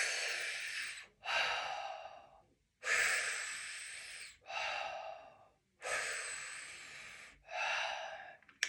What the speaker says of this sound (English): Same thing, 3 mouth breaths.